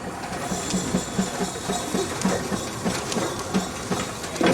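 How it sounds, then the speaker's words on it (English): Case steam traction engine with no brakes holding itself on an incline by steam pressure in the cylinder at a Case expo in Rollag, giving a steady hiss under rhythmic clanking chuffs, fairly close, with crowd noise around it. "He'll hold that engine with nothing but the power of steam in that cylinder."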